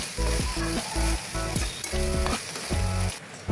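Mashed okra frying in oil in a pan until dry, giving a loud, steady sizzle broken by repeated scraping stir strokes, close up with no talking.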